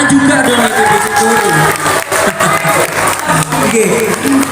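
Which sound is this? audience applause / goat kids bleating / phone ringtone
audience applause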